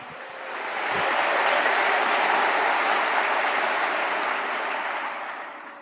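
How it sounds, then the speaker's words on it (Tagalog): Church congregation applauding a young woman's song offering, a dense sustained wash of clapping that swells in, holds steady and slowly fades, close and loud with no talk over it. "Sige po, lakasan niyo po yung palakpak."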